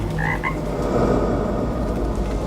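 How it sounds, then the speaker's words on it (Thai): Frogs croak in a chorus across rice fields during light rain after a heavy evening downpour, with short repeated calls over a steady hiss of rainfall. "เสียงกบเขียดที่ออกมาเล่นน้ำฝน พากันร้องดังระงมไปทั่วทุ่ง"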